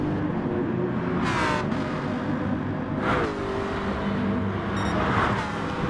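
GT3 race cars in a sim racing endurance event at Lago Maggiore, including the Coca-Cola Porsche number 8, drone continuously with engines that rise and fall in pitch through gear shifts, while several cars sweep past.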